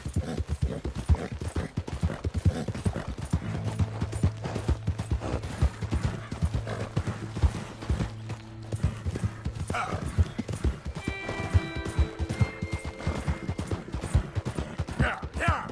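Horse hooves clip-clopping at a steady gallop in a PS4 video game, with a brief neigh, game music tones rising late in the clip, and a voice urging the horse on now and then.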